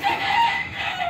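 A rooster, a breeding cock on a gamefowl farm, gives a single raspy crow lasting about a second. The call is steady, moderately loud and fairly near, with no talk over it.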